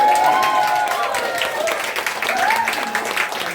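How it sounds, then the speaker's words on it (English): An audience claps for a performer at a live music night at the Black Cherry in Boscombe. The warm, sustained applause rolls on while someone talks over it. "Can I have a little round of applause again for Emily, please?"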